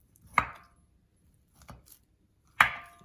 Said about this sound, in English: make some incisions into the lamb so that we can put the garlic in there